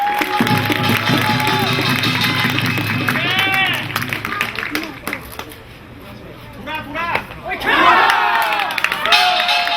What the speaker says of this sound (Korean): 여러분 큰 박수 한 번 부탁드립니다